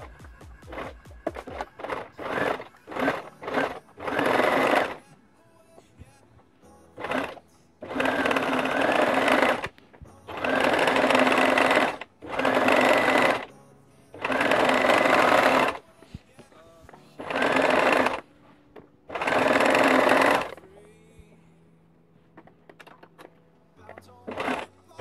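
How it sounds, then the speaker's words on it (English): A sewing machine top-stitches a fabric mermaid tail in repeated close bursts, quick stutters at first, then steady runs of several seconds each separated by short pauses. "then I'm going to do a top stitch around the fluke"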